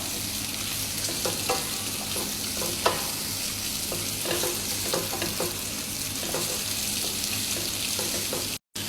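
Carrots frying in a pan for a mango and carrot pickle, a steady close sizzle with scattered stirring scrapes and clicks throughout, no talking.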